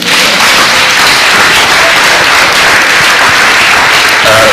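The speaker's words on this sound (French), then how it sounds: "Applaudissons pour le Seigneur" A large congregation at a Christian crusade in Benin breaks into loud, sustained applause, with many hands clapping in a thick continuous roar that stays strong from start to finish, with no voice standing out.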